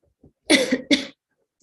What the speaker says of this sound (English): Sorry if I cough in the middle.